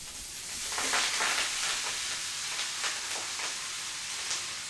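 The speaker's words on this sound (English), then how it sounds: "Let the butter warm through before adding the mustard leaves." Ghee sizzles in a pan with turmeric and mustard leaves, a steady close frying hiss with crackling pops throughout, no voices.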